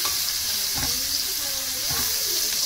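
Onion sautéing in a pan for ginisang miswa, a continuous dense sizzle with brief stirring clatters and faint talk underneath.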